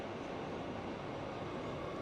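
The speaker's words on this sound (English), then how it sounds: "This is just the F train." Riding the F train on the New York subway, a steady broadband rumble and rattle of the moving car that stays even and loud, with no voices.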